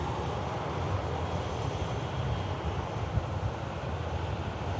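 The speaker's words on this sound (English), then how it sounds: "KLM lining up." A KLM airliner lines up on a runway at Manchester Airport, giving a steady, faint, far-off engine rumble that stays even throughout, with no talking.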